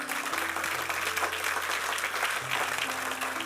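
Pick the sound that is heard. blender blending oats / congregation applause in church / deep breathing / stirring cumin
congregation applause in church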